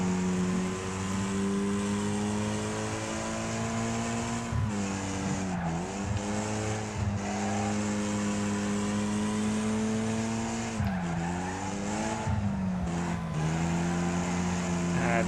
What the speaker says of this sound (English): this feels so different driving this track now in a C tier than a A tier at the start